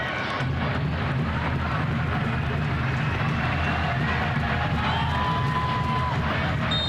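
Sellout stadium crowd at a soccer kickoff in Colorado, a dense continuous roar of many voices cheering, steady and broad throughout, with commentary talk layered above.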